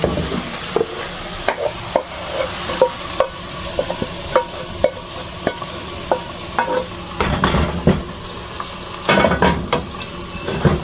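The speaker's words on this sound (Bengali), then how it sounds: "এই যে রসুনটা এখন দিয়ে দিব। রসুন লাল হয়ে গেছে।" Chopped garlic cooks in a pan, giving a soft sizzle under repeated scraping and stirring knocks, with occasional louder clatters of the utensil against the pan.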